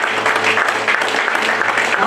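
A church congregation claps and cheers in steady, dense applause, loud and close, filling the whole moment without pause.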